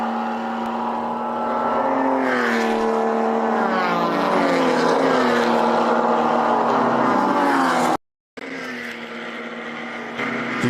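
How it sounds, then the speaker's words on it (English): Race car engines scream in a sustained, rising howl as cars climb a hill at VIR during a ChampCar 24-hour endurance race. The pitch sweeps and layers loudly, then cuts out abruptly for a moment before resuming. "You can just hear those engines scream as they go up that hill"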